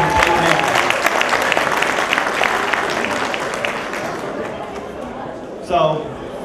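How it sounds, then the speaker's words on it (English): An audience at an evening event applauds with dense, loud clapping that fades gradually over several seconds before a voice cuts in near the end. "I want everyone to give a round of applause for Mike, Sherry, and the entire team"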